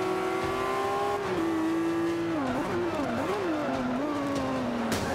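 Race car engine at Silverstone in Forza Motorsport 5, a steady high drone that dips and wavers through gear shifts and braking. It holds throughout, with faint voice mixed in.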